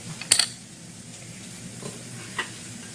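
Squash and garlic cook in a pan with a soft, steady sizzle, broken by a few brief clinks and scrapes of stirring near the start and once more near the end.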